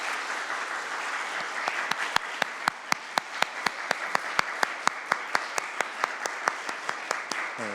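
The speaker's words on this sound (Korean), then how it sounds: "우리 하나님께 영광의 박수 올려드리겠습니다" Church congregation applauding together at a Sunday morning service, a steady run of sharp, evenly spaced claps that settles into a unified rhythmic beat, fairly close and clear over a soft room hum.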